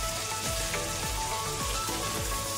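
Masala-stuffed eggplant sautés in a pan with a steady, close sizzle and crackle, punctuated by soft, regular bumps as the pieces are turned.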